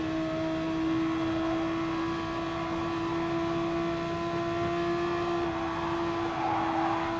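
Gr.3 race car engines drone steadily at Spa-Francorchamps in Gran Turismo Sport, a sustained even whine held at moderate level with no talk over it.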